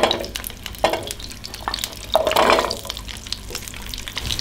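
Shallots, garlic, candlenut and ginger frying in oil for Indonesian ayam guling spice paste, with a steady close sizzle and intermittent scraping stirs from a utensil in the pan.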